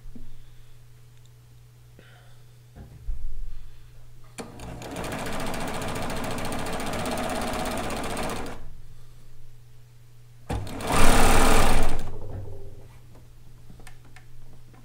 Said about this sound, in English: following the edge of the metal to place my fabric as I'm sewing